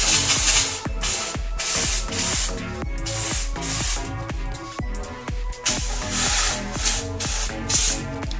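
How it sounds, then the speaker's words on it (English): A handheld steamer blasts pressurised steam onto bed bugs in rhythmic bursts, a loud broadband hiss that pulses on and off roughly every half second, close and harsh, with brief gaps between sprays. "So when I steam, I always try to steam it on the opposite direction"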